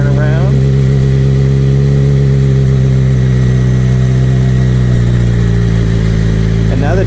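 Motorcycle engine running at low throttle in a parking lot, a steady loud drone with strong low harmonics that shifts pitch slightly as it eases along, with a person talking over it throughout.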